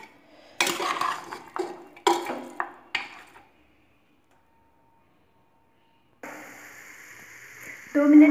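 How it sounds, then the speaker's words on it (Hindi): Half a kilo of mutton with three large onions being stirred in a pressure cooker, with a few loud scraping stirs in the first seconds, a quiet pause, then a steady sizzling roast that swells near the end. "तो चलिए इसको भून लेते हैं हम थोड़ी देर।"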